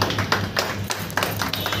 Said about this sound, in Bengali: একদম হাততালি হাততালি